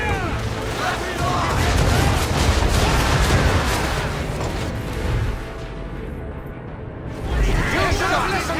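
A musket volley and ongoing gunfire in Assassin's Creed III, set in a colonial-era battle: sustained heavy booming and crackling shots with rumbling blasts, loud and near, while voices shout orders over the din.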